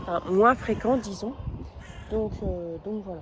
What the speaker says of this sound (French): Enfin, c'est pas des corbeaux, c'est des corneilles.